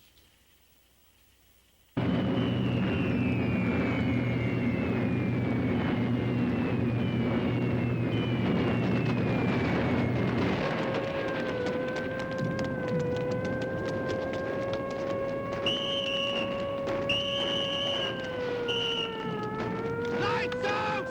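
Wartime bombing raid with a droning air-raid siren wailing over heavy low rumble, then rising and falling siren tones with scattered distant blasts, fairly faint overall.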